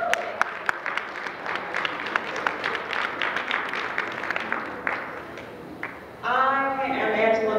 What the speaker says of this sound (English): Let's give each other a round of applause for showing up and showing out.